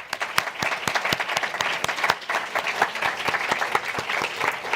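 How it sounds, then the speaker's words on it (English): A crowd applauds a panel at a research workshop on pandemic preparedness, with steady, dense clapping that holds at an even level throughout, with no voices on top. "please thank our panel with a great round of applause"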